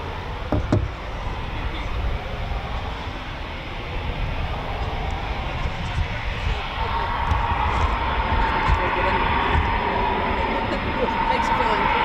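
A Eurofighter Typhoon FGR4 jet at RAF Coningsby at night, a distant steady engine roar that swells slowly, with people talking nearby over it.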